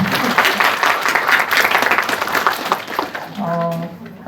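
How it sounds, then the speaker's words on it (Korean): An audience applauds at a Korean university law department's mock criminal trial, with dense, steady clapping that fades out near the end as a faint voice comes in. "그래서 먼저 이걸 이렇게 준비하신 여러분들께 박수를 보내드리고 싶습니다."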